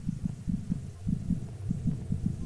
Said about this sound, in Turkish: Kalp sesi geliyor.